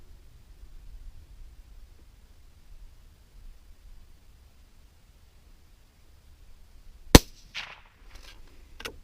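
A single sharp crack from a Remington .22 Magnum rifle fired outdoors comes after several seconds of quiet wind and rustle, followed by faint rustling noise.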